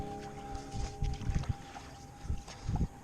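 A canoe is paddled on a river in central Minnesota in late December, with several soft paddle strokes and water swishes over light wind buffeting the microphone.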